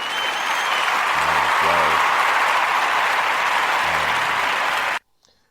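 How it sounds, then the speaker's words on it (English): Steady wash of applause, fairly loud and continuous for about five seconds before cutting off abruptly, with a few low thumps underneath. "So round of applause to Lotto."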